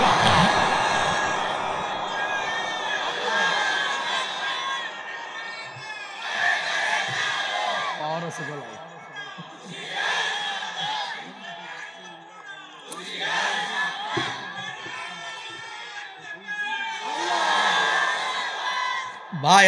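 A large crowd at a religious gathering shouts the Nara-e-Takbir, Allahu Akbar slogan in loud call-and-response waves, voices rising and falling together in repeated surges.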